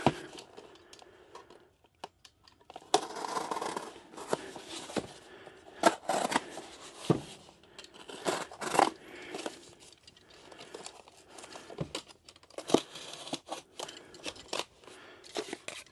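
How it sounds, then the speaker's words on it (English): Excess cardboard being trimmed and handled while packing eBay orders, irregular close cuts, crinkles and rustles in uneven bursts with quiet pauses between. "now we have too much cardboard here, so go ahead and trim this down some"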